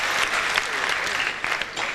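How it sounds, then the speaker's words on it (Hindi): An audience at a comic gathering claps loudly for the chief guest, a thick, sustained round of applause filling the clip. "तो उन चीफ गेस्ट महामूल के लिए एक बार तालियां बजाइए जोरदार"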